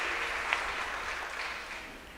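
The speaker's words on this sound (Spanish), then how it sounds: "Denle un fuerte aplauso al Señor" A church congregation applauds in a steady, moderate wash of clapping that continues evenly for the whole stretch with no voices over it.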